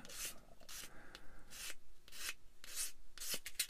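A small model kit part is sanded by hand in repeated short, dry rubbing strokes, about eight to ten bursts in a quick irregular rhythm, close and quiet with no talking.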